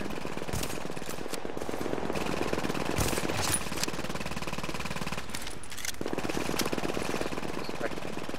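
Rapid automatic gunfire rattles continuously in The Division, a dense, loud stream of shots that barely pauses, with a player's voice faintly under it.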